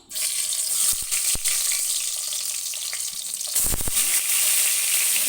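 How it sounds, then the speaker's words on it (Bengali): Fish heads rubbed with salt and turmeric hit hot oil and fry with a loud, dense sizzle that stays steady, broken by a few sharp spattering pops. "এবার মাথাগুলো তেলে দিয়ে দেবো।"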